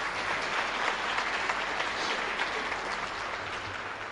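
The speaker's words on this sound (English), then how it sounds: "let's give these guys a round of applause for taking time out of their night" An audience at a Fairmont High School Hall of Fame event gives the coaches a round of applause, with sustained clapping that holds at an even level for several seconds, heard from within the crowd.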